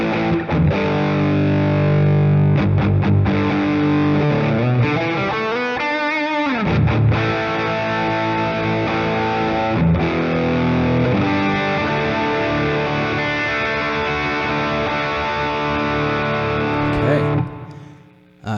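A Fender Telecaster on its bridge pickup runs through a SmartPedal amp model, playing distorted chords and single-note runs with a gritty, chorus-tinged edge for most of the clip before cutting off near the end.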